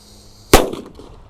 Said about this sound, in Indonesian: Yang pertama kita nyalakan adalah mercon kera raja ya. Ini di dalam lubang tanah bosku.